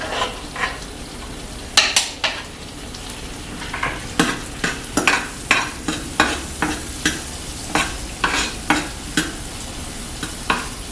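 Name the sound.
onions frying and caramelizing in a pan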